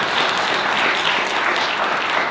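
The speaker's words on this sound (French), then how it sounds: "Peut-être déjà l'applaudir." Audience applause welcoming a speaker at an evening green-economy conference, a dense, steady burst of many hands clapping close by for a couple of seconds.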